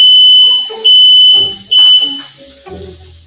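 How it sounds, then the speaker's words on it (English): Kitchen smoke alarm going off in loud, piercing high-pitched beeps, three bursts in quick succession, heard over faint background clatter. "Smoke alarm going off."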